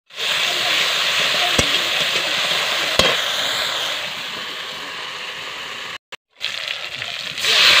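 Panch phoron tempering for masoor kalai dal hisses and sizzles steadily in a pan, with a couple of sharp clicks and brief cut-outs near the end.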